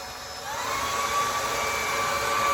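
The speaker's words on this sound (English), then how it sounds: "I'm just going to vacuum this loose stuff off here before anything else" A vacuum cleaner whines steadily as it sucks loose debris off a 1997 Mustang Cobra engine cylinder head, starting up within the first half second, then holding a loud, constant drone alone with no talk.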